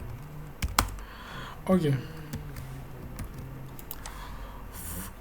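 Scattered keystrokes on a computer keyboard while code is deleted, a few sparse clicks and taps at moderate level, with a brief spoken word and background hum.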